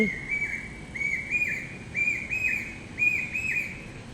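A bird sings a varied song in a home garden in the evening, repeated clear whistled phrases at a moderate distance over a constant low background hiss.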